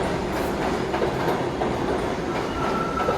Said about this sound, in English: This is New York Metro subway. Underground train. This is the 1 number train.